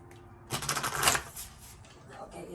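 Tarot cards are shuffled in a short, crisp riffling burst that rises and then fades over about a second, close and fairly quiet, with a little talk faintly around it.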